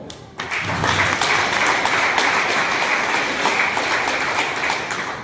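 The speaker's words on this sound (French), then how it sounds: "On applaudit pour nous-mêmes." A political party gathering of MLC militants in South Kivu breaks into applause, starting abruptly after a short lull and then carrying on as loud, sustained clapping from the crowd.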